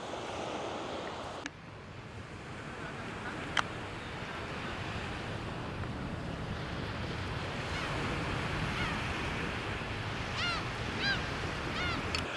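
Steady roaring wind and crashing surf on the coast fill the air at a constant level, with a couple of brief thumps and faint calls of seagulls near the end.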